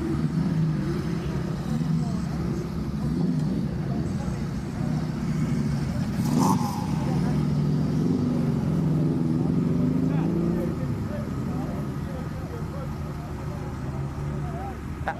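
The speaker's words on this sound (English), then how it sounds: "Going to let you enjoy the sounds of these cars." Racing cars at Donington Park circuit idle and rumble at parc fermé, a steady low engine drone throughout with a brief rise in revs midway, heard from nearby.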